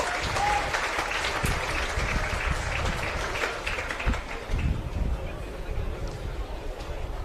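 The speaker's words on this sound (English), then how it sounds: "receiving a warm applause from the crowd here at Cromer Park" A crowd at Cromer Park applauds warmly during a Pararoos versus USA international friendly football match, with sustained clapping throughout and a commentator talking over it.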